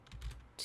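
Keystrokes on a computer keyboard while setting up an FK spine rig in 3D software: a quick run of soft, close taps followed by a sharper clack, no talking over them.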